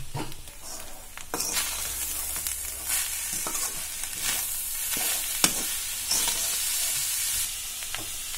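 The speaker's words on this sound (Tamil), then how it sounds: "கூடவே கொஞ்சம் நம்ம பொடிச்சு வச்சிருக்கிற சர்க்கரை ஏலக்காய் போட்டு நல்லா இது கூட வதக்கி போறோம்." Grated coconut with powdered sugar and cardamom fries in a pan, with a steady sizzle broken by repeated scraping strokes of a stirring spoon, close and fairly loud.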